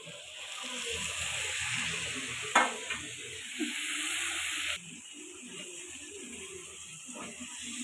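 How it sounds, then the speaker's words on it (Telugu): Tripe fries in a pan until golden for a Telangana-style curry, a steady soft sizzle with occasional stirring scrapes and clinks throughout, fairly close and with no talking. "ఇలా గోల్డెన్ కలర్ వచ్చే వరకు వేయించుకోండి, లేకపోతే నీచు స్మెల్ వస్తుందండి"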